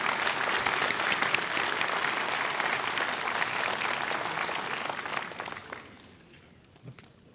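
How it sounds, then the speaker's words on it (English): Sustained audience applause at a graduation ceremony, dense and steady for several seconds, then thinning out and fading to a few scattered claps at the end. "let's give both of our student speakers another round of applause"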